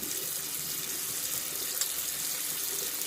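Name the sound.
hot water running from a tap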